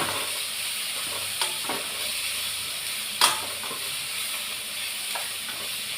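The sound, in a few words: stir-frying broad beans with tomato and garlic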